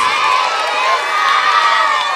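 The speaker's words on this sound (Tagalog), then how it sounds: "Sa ating lahat, tayo po ay sumigaw ng Merry Christmas!" A crowd at a birthday celebration cheering and shouting Merry Christmas together, a dense loud wall of voices that stays steady and close throughout the short burst.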